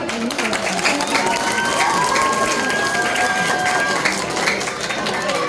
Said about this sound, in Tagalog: Wala ba tayong mga palakpak?